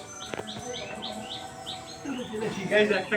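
Pet parrots give a quick run of high, rising chirps, then harsher squawks grow louder and busier as they are caught, close by, with faint talk underneath.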